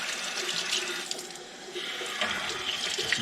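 Hot water runs steadily from a utility sink faucet into the basin, a continuous close splashing stream with no talk over it.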